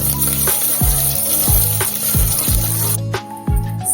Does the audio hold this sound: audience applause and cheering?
no